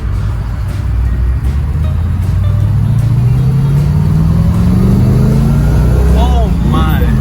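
A 1968 Plymouth Road Runner accelerating, its engine note climbing steadily from inside the cabin as a loud, torquey rumble, with voices talking over it.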